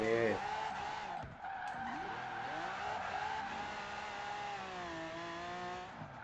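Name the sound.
car drifting with handbrake, tires skidding, video game Forza Horizon 4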